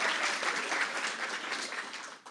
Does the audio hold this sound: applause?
yes